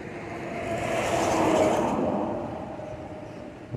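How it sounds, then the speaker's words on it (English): Cars rumble past on a bridge, swelling to a broad roar in the middle and fading away, with a low rumbling undertone. "I could feel the bridge shake when them cars go over"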